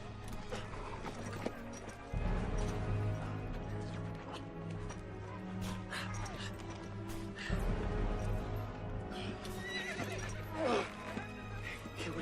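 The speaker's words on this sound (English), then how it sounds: "Here's my horse." A horse whinnies loudly several times while hooves clip-clop and shuffle nearby, with low rumbling background and brief voices mixed in.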